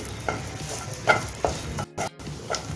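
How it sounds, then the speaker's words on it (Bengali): Raisins frying in ghee in a pan for sheer khurma: a quiet, steady sizzle broken by several sharp stirring scrapes and clinks of a spoon, heard up close with no voices. "এখন আমি কিশমিশটা দিয়ে দিচ্ছি। কিশমিশটা এখন ভেজে নিচ্ছি।"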